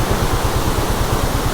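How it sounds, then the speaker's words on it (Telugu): A rain-fed waterfall pours in a steady, dense rush of water noise on a forest stop during a bike trip from Goa to Kolhapur, continuous and fairly loud with no voices. "ఇదిదా వాటర్ ఫాల్"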